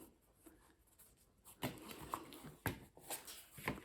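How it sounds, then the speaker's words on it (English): A stack of about twenty sheets of 80 to 90 gram office paper is folded in half by hand for a notebook, with soft rustles and several sharper creasing crinkles, close and fairly quiet. "Okay, I'm gonna fold these in half."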